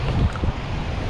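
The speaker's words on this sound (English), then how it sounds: "The wind blowing dead in my face out of the southwest." Wind gusting over waves on a windy fishing outing from the southwest, a brief rough roar with buffeting on the microphone and no talk.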